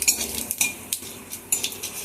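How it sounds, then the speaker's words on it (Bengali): Cumin seeds fry in hot oil alongside bay leaf and dried chili while a metal spoon clinks and scrapes the pan in several sharp strikes over a soft sizzle. "জিরেটাও ওই তেজপাতা লঙ্কার সাথে অবশ্যই ভেজে নেবো আমরা।"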